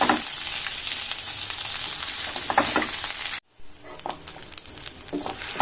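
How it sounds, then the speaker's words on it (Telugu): Mint leaves fry and sizzle in a pan while being stirred, a dense crackling hiss with scraping strokes; the sound cuts out abruptly for a moment, then resumes a little quieter with continued stirring. "ఇలా మంచిగా వేయించుకోవాలండి. పుదీనా అన్నీ డ్రై అయ్యే వరకు మంచిగా వేయించుకొని"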